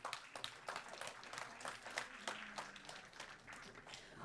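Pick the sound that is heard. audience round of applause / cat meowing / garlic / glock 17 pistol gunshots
audience round of applause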